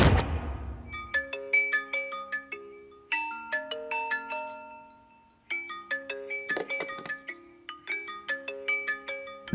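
A mobile phone rings with a bright, melodic electronic ringtone in repeated chiming phrases, loud and close, pausing briefly before the tune starts again, with no voices over it.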